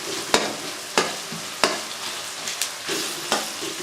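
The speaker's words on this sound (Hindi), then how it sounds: "अब हमने इसको हिलाते रहना है।" Eggplant and tomatoes fry in a pan with a steady sizzle, broken by sharp, regular scrapes of a spoon stirring roughly every half second to second, close and alone without talk.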